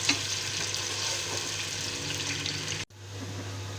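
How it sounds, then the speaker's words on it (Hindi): Onions sizzle steadily in hot oil in a pan for aloo matar keema, a constant bright crackle with a low hum underneath, briefly cut by a sudden dropout near the end before the frying resumes. "प्याज डाल के इसको गोल्डन ब्राउन करनी है।"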